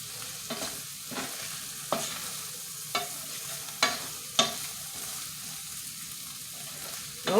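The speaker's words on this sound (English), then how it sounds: "So they're browning up pretty nice." Meatless meatballs browning in a frying pan, a steady close sizzle punctuated by regular stirring or turning knocks every second or so, with no talk.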